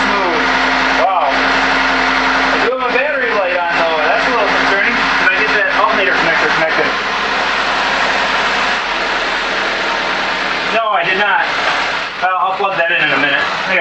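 A 2012 Buick Ecotec engine, repaired after blow-by from bad factory piston rings, idles evenly with a smooth, constant hum beneath someone talking close by.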